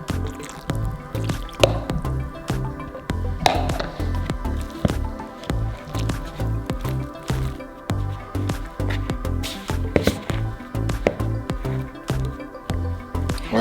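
Wet, shaggy pizza dough is mixed by hand, giving steady close-up squelches and sticky squishes with dripping, wet slaps throughout and no talking.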